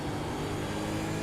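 A race car in the Supercars racing video game at Watkins Glen roars past alongside, a steady loud engine drone that holds for about a second with no voices.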